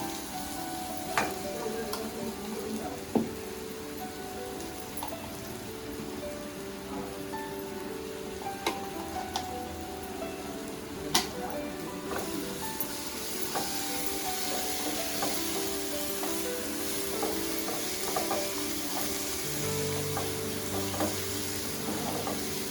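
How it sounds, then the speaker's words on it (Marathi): Tomatoes roast in a pan on a home stove, giving a steady, fine sizzle with scattered pops and crackles throughout, alone and without talk. "जरा तांबाटा भाजून घेते."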